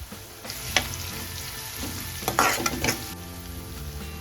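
Asafoetida goes into dal sizzling in a pan, a close hiss of frying with bursts of spoon stirring and scraping in the middle, over a low background hum.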